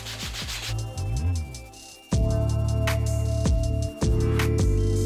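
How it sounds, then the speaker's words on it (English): Steady, loud scrubbing and rubbing against a barbell to clear chalk, dead skin and dirt, continuous rough friction in long strokes with a brief pause and a faint hum underneath. "just by scrubbing it down, we've already cleaned off most of the bar"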